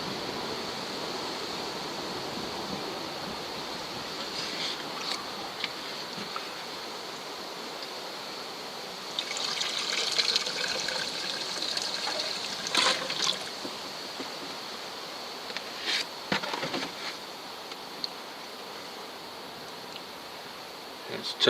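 AdBlue liquid trickles steadily through a funnel into a vehicle's tank, a soft continuous stream with a faint gurgle that swells slightly at moments.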